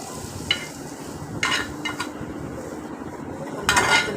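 Spiced mutton pieces, marinated in masala, stirred and fried in a pan, with a steady sizzle underneath and a few short clinks and scrapes of a utensil against the metal, close and fairly quiet.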